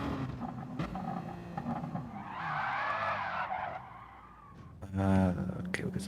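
Race cars roar and skid with tire squeal at the Nurburgring GP circuit in a sim racing game, the engine and skid noise swelling in the middle and again near the end, with people talking over the top.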